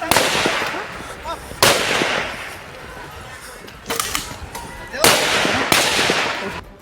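Police fire shots into the air during a clash with stone-throwing protesters: several sharp, loud cracks at irregular intervals, each followed by a short echo, over the rumble of a crowd outdoors.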